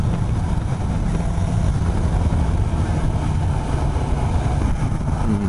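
Steady, loud drone of a Suzuki GSX-S750 inline-four motorcycle engine on an expressway, heard close and continuous with a low, grainy rumble and no talking over it.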